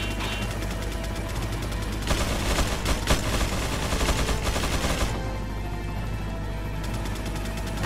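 Resident Evil 4 gunfire comes as dense, rapid bursts of shots, loud and close, with a heavier flurry in the middle before it thins out and picks up again.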